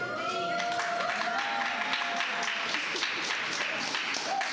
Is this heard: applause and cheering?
yes